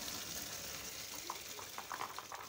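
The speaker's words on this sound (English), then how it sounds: "So I drain the water in a sieve." Water from boiled groundnuts runs off through a sieve, a soft trickling and splashing with a few small drips and clinks, quiet and close.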